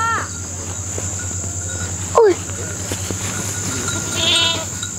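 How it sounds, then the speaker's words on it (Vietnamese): Goats bleating in a rice field, a couple of short bleats near and far over a steady hum of crickets and insects, with a bird-like chirp near the end. "Dê xuống đến ruộng rồi."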